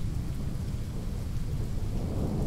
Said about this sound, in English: a thunderstorm just rolled in off the ocean, and so now it's lightning and thunder